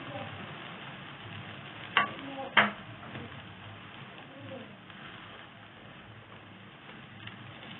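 An egg omelette fries in a pan on its second side with a steady, moderate sizzle throughout, broken by two sharp utensil clicks early on.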